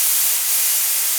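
An HVLP spray gun fed from a pressure pot at around 25 psi sprays once triggered, making a steady, close, bright airy hiss that holds without a break.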